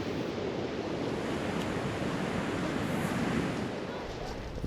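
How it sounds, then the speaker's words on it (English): Fierce ocean surf pounds Iceland's south coast where sneaker waves run, a loud, continuous roar of breaking water with steady wind noise and no clear pauses. "the ocean is fierce along this stretch of coastline with so-called sneaker waves"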